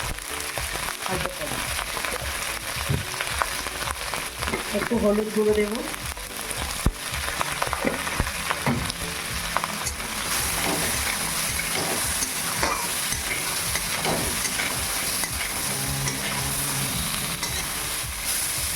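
Shrimp frying in hot oil with bay leaf, a dense continuous sizzle close up with occasional stirring scrapes, while someone talks over it.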